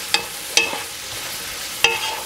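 Onions frying in a pot as the base for chicken kabsa, a quiet steady sizzle broken by three sharp scraping stir strokes, close and alone with no talk.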